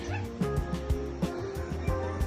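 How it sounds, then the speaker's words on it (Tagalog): A dog barks in a quick, irregular series of yips and bow-wows, moderately close, with a faint steady hum in the background. "agatin tayo ng aso"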